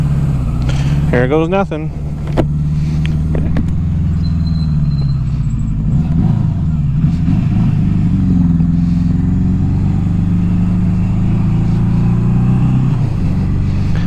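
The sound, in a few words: 1982 Suzuki GS750T motorcycle riding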